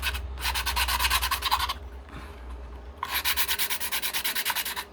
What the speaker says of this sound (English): I'm just doing the minimal sanding requirements at the moment.